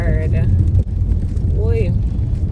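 A car driving over rough, bumpy roads in Jamaica, its body shaking with a steady heavy low rumble and rattle, while a person talks over it.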